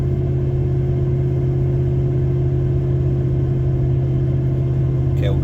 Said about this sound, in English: Just a easy acceleration, probably less than quarter throttle.